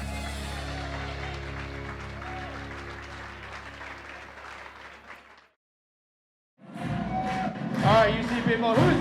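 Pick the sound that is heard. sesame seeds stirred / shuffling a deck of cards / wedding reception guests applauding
wedding reception guests applauding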